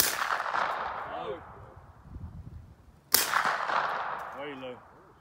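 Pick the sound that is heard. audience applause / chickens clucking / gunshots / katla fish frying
gunshots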